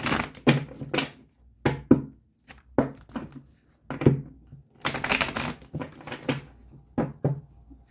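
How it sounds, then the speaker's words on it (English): Repeated soft slaps and riffling bursts of tarot cards being shuffled, irregular and close, in short flurries with brief pauses between. "One more shuffle, Capricorn."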